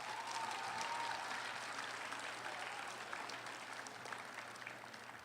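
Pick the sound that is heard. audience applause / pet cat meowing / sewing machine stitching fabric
audience applause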